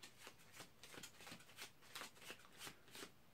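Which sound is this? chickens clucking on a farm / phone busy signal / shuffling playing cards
shuffling playing cards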